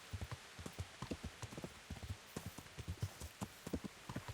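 Horse hooves clip-clop in quick, steady trotting beats in the video game Kingdom Come: Deliverance, close and crisp over a faint ambient bed, without speech.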